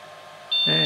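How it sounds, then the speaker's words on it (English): A 3D printer switches on with a rising electronic tone and a steady mechanical hum, quiet at first, then louder as the motors engage. "So, we want to turn on the printer."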